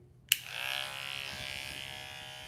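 Electric hair clippers fitted with a #4 guard switch on with a sharp click and settle into a steady, close buzzing hum while cutting hair during a self-administered buzz cut taper fade.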